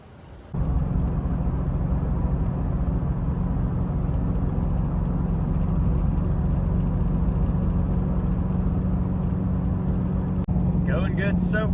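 A Scion FR-S driving to a gas station after a rebuild, its engine a steady, loud drone throughout with a brief voice near the end.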